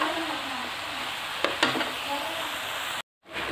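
Shredded cabbage frying in a pan, a constant close sizzle with a couple of soft stirring scrapes, cut off by a short gap of silence near the end before the sizzle returns.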